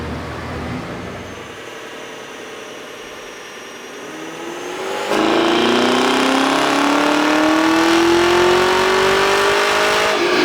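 Stock car fitted with a Whipple supercharger on a dyno, engine idling then jumping to a loud sustained pull with a rising whine climbing steadily in pitch.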